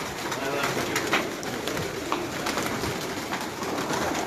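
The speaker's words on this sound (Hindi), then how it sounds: "कबूतरों की जो फड़फड़ है ना इस दिल में ऐसा सुकून और तसल्ली पैदा कर देती है" Pigeons coo steadily nearby amid a dense, rustling flutter of wings, a busy continuous flock sound.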